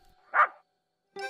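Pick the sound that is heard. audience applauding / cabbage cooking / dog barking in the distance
dog barking in the distance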